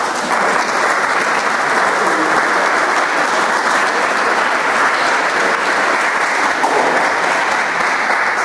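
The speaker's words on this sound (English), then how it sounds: "give them a round of applause" Steady, dense applause fills a large room at a 2013 community meeting about fracking in Ravenna. Many hands clap at an even level throughout.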